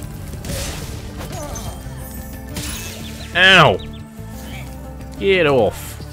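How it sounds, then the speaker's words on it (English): Sheep bleat twice in the Spyro Reignited Trilogy video game, as two loud wavering cries a couple of seconds apart over busy game sounds, with a player talking. "I hear sheep."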